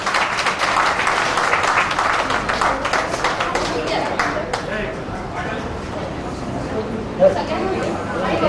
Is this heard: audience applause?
yes